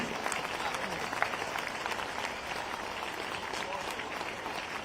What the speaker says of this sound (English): Have a huge round of applause for the entire team who made this possible